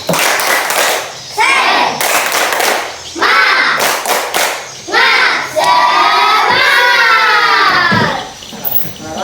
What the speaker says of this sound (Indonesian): marilah kita mengadakan insyaallah tepuk semangat